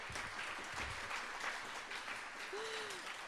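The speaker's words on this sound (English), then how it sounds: "we can applause now. Now we can clap." Audience applause at a League of Women Voters candidate forum for the San Francisco District 7 supervisor race, a continuous, fairly soft patter of many hands clapping with a brief cheer, heard at moderate distance.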